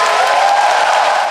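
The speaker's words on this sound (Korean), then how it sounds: "박수 한번 주세요" A loud, dense burst of applause from a concert crowd at a show in Seoul, with faint cheering mixed into the continuous clapping before it begins to fade.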